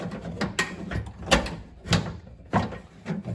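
Close plastic sliding and clicking from working a door switch out of a 2001 Ford Ranger door, a few short scraping knocks at uneven intervals.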